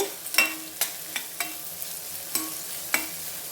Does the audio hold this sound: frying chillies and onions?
yes